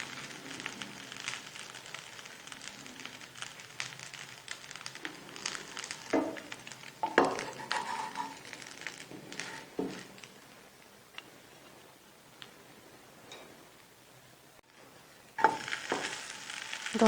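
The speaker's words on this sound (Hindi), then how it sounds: "ये देखिए दोनों साइड्स पे हमने मक्खन लगा लिया है, इसको फ्राई करते हैं।" Bread buttered on both sides fries in a pan over a medium flame with a steady soft sizzle and crackle, faint and continuous, broken by occasional scrapes and ticks.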